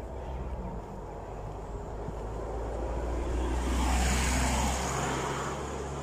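Road traffic passes at a distance along a street during a spring walk, a continuous low rumble of cars that swells and fades as vehicles go by, steady and fairly faint in the background.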